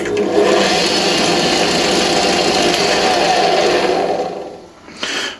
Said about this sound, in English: with a small drill, you need to run the drill at a fast speed.